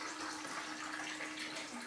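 Water runs in a steady, soft stream from an air-to-water machine into a glass, a brief gentle pour with no talking.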